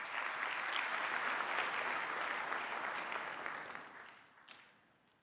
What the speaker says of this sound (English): A round of applause for Ambassador.